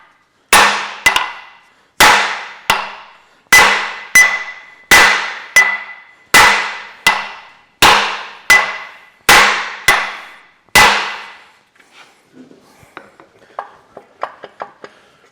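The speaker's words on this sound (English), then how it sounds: "So we'll get a hammer." A hammer strikes metal in a steady rhythm while fitting a Massey Ferguson 65 tractor's planetary gear into the trumpet housing, about a dozen sharp ringing blows in pairs and singles, then lighter scattered taps.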